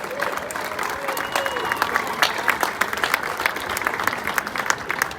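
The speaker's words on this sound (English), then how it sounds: "Big round of applause." A crowd at a welcome-home celebration for Australian Olympic athletes in Perth applauds, many hands clapping in a steady, fairly distant wash, with a few scattered voices and cheers mixed in.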